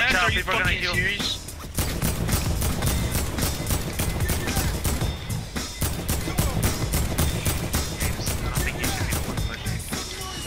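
Rapid bursts of gunfire from Fortnite crackle almost nonstop, sharp repeated shots layered under excited talking from players.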